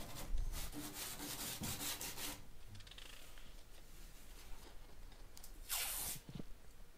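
Repeated rough rubbing and scraping strokes on an acrylic bathtub surface, close and fairly quiet, with a sharper burst of scraping near the end.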